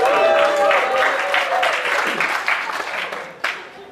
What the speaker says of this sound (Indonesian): Jangan tepuk tangan dulu karena dialog malaikat ada.